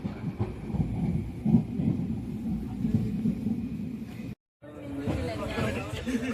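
A moving passenger train at night, travelling between Jalna and Manmad, rumbles low and steady inside the coach beneath close, constant chatter from several people.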